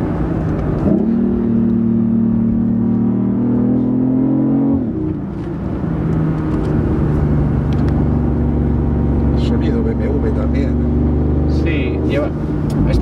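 A BMW i8 Roadster's 1500cc three-cylinder engine accelerates with a steady droning hum that shifts pitch as revs climb, then settles into a sustained, slightly amplified tone, continuous and close throughout.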